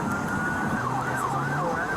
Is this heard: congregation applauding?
no